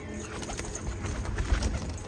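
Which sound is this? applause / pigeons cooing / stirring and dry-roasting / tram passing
pigeons cooing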